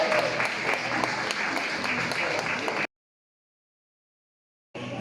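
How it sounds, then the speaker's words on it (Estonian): Applause for the winners at a para-swimming championship in a university sports hall: a dense burst of many hands clapping with crowd murmur, cut abruptly to silence for about two seconds before the clapping briefly resumes. "aplaus võitjatele."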